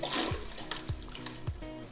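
Water gushes out of a freshwater aquarium through a siphon cleaning hose, a steady close flow and splash with a few rhythmic gurgling pulses as it is pumped, running on its own without talk.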